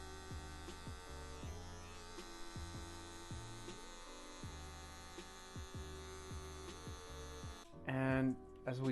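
Electric hair clippers cutting hair during a step-by-step degrade fade haircut, a steady buzzing hum with rhythmic dips as the blade flicks out, close and continuous, ending with a brief louder burst.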